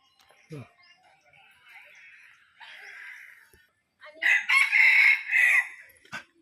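A rooster crows loudly and close by at a Buddhist temple in Thailand, a long drawn-out call near the end, with softer clucks and faint sounds before it.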